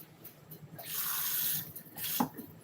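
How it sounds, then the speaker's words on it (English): A kitchen tap runs briefly to add water to a pot while cooking: a soft hissing gush swells for about half a second, cuts off, then a short second splash follows, close by in a quiet room. "Let me add a little bit of water to this."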